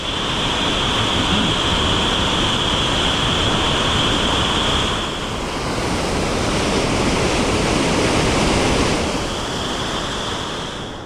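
A waterfall on the River Shin in the Scottish Highlands, close and loud, pours in a continuous broad rushing roar with a steady hiss, swelling slightly and then settling, with no voices.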